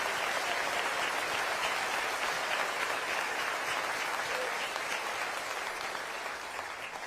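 A large audience at the 2025 State of Milwaukee County address claps steadily in a dense, sustained round of applause that stays loud throughout and eases off only slightly at the end.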